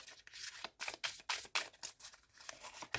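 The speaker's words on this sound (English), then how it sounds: "I'm going to give them a really good shuffle." A new deck of tarot cards shuffled in quick bursts of riffling and rubbing, about a dozen close, crisp strokes in an uneven rhythm, fairly quiet and with no talk.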